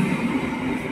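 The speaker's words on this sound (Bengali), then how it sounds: "4 নম্বর প্ল্যাটফর্ম দিয়ে থ্রু ট্রেন যাবে, অনুগ্রহ করে সুরক্ষিত দূরত্ব বজায় রাখুন।" A through train rushes past platform 4 of a suburban railway station near Barrackpore, a loud, continuous roar of wheels and carriages close by with no voices.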